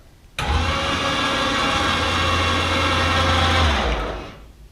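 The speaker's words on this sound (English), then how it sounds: "And then I use my winch here, pick it up," An electric winch hoists a Baja Bug off the ground during front suspension drop testing, switching on abruptly with a loud, steady motor whine and low hum that runs about four seconds before winding down.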